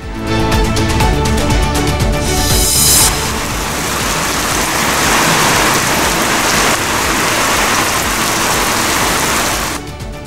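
Heavy rain falls steadily over a flood-hit area, a loud, dense, constant wash of noise lasting nearly ten seconds, without any voices.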